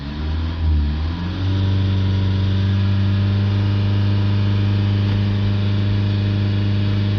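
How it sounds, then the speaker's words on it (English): A Hyundai Tucson engine with a suspected particulate filter fault revs up from idle to a steady high-RPM drone, close and loud, holding a constant tone for several seconds with no talking. "let's rev it up."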